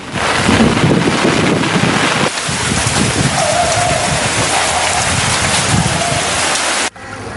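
Heavy monsoon rain and wind roar loudly and steadily in Trincomalee, a dense rushing wash with buffeting gusts against the microphone, unbroken and without talk.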